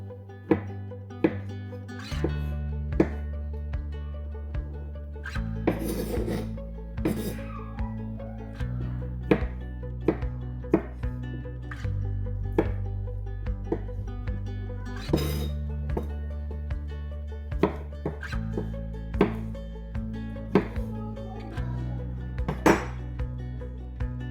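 Guacamole ingredients such as avocado and chilies being chopped on a board: a series of sharp knife knocks and clinks, irregular and close, over a low steady background hum, no talking.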